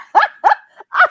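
Dog barking three times in quick succession, loud and close, with a short yip between the barks and no talking.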